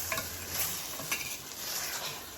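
Kerala-style chicken with bird's eye chillies sizzles in a pan while being stirred, a soft steady fry with light scraping and clinks of the utensil, no voices.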